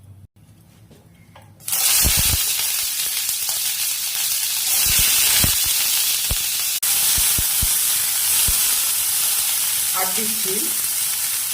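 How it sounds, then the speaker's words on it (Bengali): Onions dropped into hot refined oil burst into a loud, sustained sizzle after a quiet start, with sharp stirring clacks of a spatula against the pan recurring throughout and a brief spoken phrase near the start. "তেলটা গরম হয়ে গেছে, এবার এর মধ্যে দিয়ে দিচ্ছি পেঁয়াজ।"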